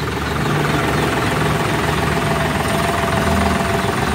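A John Deere tractor engine runs at a steady idle, a loud, close, continuous diesel rumble with even low throb and no voices over it.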